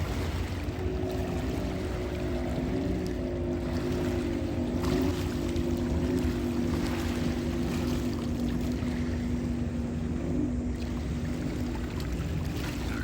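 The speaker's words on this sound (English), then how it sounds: "lots of recreational boat traffic on here" A recreational motorboat engine on the St. Clair River drones steadily with a low hum, alongside wind and lapping water, continuous throughout with no talking.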